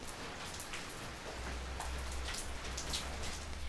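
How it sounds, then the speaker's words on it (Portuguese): Steady rain falls at night in Erechim, a dense even hiss of drops hitting streets and surfaces, faint and continuous with no voices. "A tão esperada chuva chegou em Erechim na noite desta"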